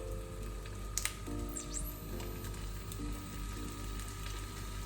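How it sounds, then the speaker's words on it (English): Tofu slices in a hot pan with coconut oil give off a faint, steady sizzle with a low background hum and a few small clicks and taps. "And then you should hear a little sizzle."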